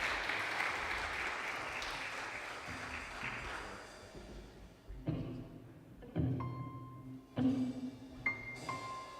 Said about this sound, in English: Let's give them a round of applause today.